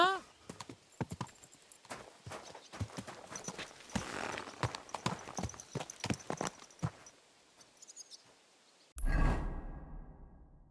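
Horse hooves clip-clop steadily in Kingdom Come Deliverance II, a close, rhythmic gait with faint game voices underneath, before a loud whooshing burst near the end.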